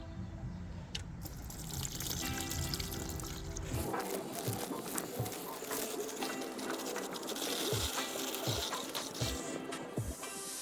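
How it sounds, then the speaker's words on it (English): Rainwater pours steadily into a tub for electrolysis rust removal, a continuous splashing stream with a few soft thuds and clinks toward the end. "I'm going to add rainwater."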